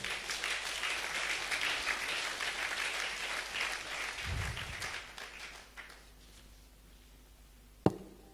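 A church congregation applauds to acclaim the Lord, a dense wash of clapping that thins out and fades after several seconds, with one last sharp clap near the end.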